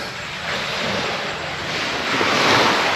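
Sea waves washing onto a beach beside a morning campsite in the Philippines, a broad continuous roar of surf with wind buffeting the microphone, building slightly louder toward the end, no voices.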